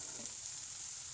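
Bitter gourd pieces land among fried onions in a hot pan, giving an even, continuous hiss of frying heard up close and alone.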